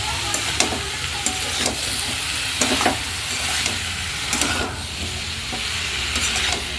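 Pumpkin, ridge gourd and eggplant stirred and frying in a pan: a steady sizzle and hiss with repeated scraping stirs and clicks of the spoon, close and continuous, no talk.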